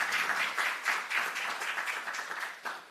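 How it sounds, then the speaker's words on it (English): An audience applauds newly named data protection officers at an educators' awards ceremony, a dense, steady round of clapping from a crowd that holds for a few seconds and begins to thin at the end. "can we have a round of applause to congratulate these new data protection officers?"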